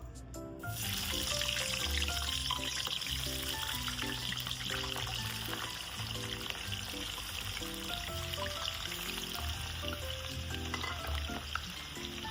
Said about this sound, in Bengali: এবার সেম তেলেই যে তিন রকমের আলু ছিল সেই তিন রকমের আলুগুলোকেও আমি ভেজে তুলে রাখবো